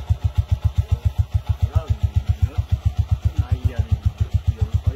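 A motorcycle hauling a heavy load down a steep mountain road, a close, steady, rapid engine thump pulsing evenly throughout, with faint sounds above it.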